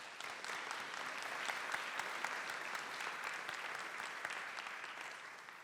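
A forum audience applauds steadily, a dense wash of clapping from many hands that stays fairly even and somewhat distant from start to finish.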